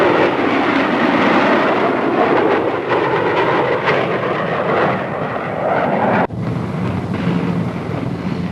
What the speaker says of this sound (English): Four-ship formation coming in over the field, being led by the B-49, B-47, 45, and the F-86.